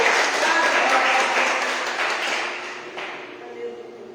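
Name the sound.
applause from church congregation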